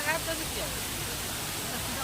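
The waterfall at the Batu Caves Murugan temple in Malaysia gives a constant even hiss of falling water, heard from a distance, with a brief faint voice at the very start.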